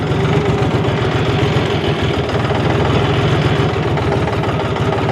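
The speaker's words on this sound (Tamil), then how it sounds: "மக்களே நான் டிராக்டர் விடுறேன் பாருங்க" A diesel tractor engine runs steadily while driving, a loud, continuous low chugging with a fast regular knock, close up and without talk.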